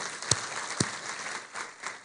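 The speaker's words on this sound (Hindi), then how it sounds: "तो एक अब तालियां होनी चाहिए इस बड़े काम का जो शुरुआत हुई है" Scattered applause from an audience at the launch of a school health mission in Tripura, fairly faint and sparse, with a couple of sharper individual claps standing out.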